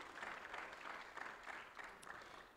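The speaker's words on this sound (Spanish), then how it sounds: "quiero que se den un aplauso" A church congregation at a Spanish-language service gives a round of applause, a soft, distant wash of many hands clapping that stays steady for a couple of seconds before tapering slightly.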